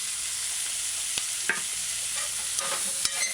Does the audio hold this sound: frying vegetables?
yes